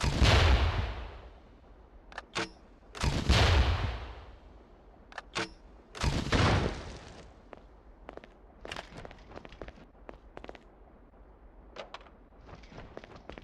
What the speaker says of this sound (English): Grenades fired from grenade launchers explode on impact